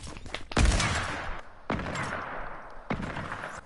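Sniper rifle shots in Fortnite ring out three times, spaced roughly a second apart. Each is a loud, close crack with a long reverberant tail.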